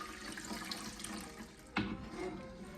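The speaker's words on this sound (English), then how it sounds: "I just added 10 cups of hot water." Hot water runs steadily from a pot into coconut milk for a bitter gourd stuffing, a continuous close splashing flow with a brief louder gush near the end.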